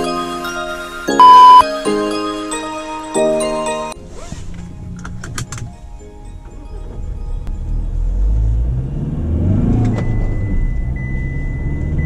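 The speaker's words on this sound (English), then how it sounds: "let's crank the engine and check out how it performs on the road." A 2020 Tata Harrier SUV with a 2-litre inline four-cylinder diesel: a few chimes and tones sound first, then the engine turns over and settles into a low, steady rumble that swells slightly as it runs.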